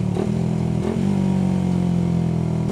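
A motorcycle engine revs during rev matching with the clutch pulled, giving a quick throttle blip early on and then a steady, loud, close engine drone, with no talk.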